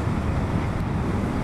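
Steady wind blows across an outdoor microphone as a continuous low, broadband rumble with even buffeting throughout and no talking.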